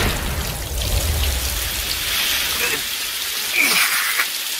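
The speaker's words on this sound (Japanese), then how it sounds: "冷たい雨に打たれて溶けるがいい" Cold rain falling in a Japanese audio drama, a steady dense hiss of drops striking surfaces, loud and continuous throughout, with no voice over it.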